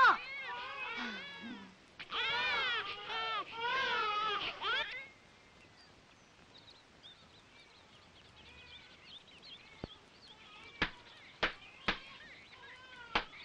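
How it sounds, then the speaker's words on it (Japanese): In an anime, a high, wavering infant cry wails in repeated bursts near the start, then fades out, leaving a quiet room with a few sharp knocks. "赤ちゃんの泣き声が聞こえるわ"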